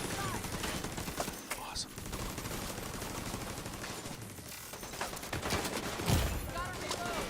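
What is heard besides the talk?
minigun firing in a video game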